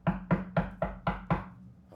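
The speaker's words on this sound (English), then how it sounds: "You hear a very stern knock at the door." Six heavy, stern knocks on a door land in an evenly spaced sequence, each a firm, resonant thud that rings briefly, close and loud, followed by a short silence.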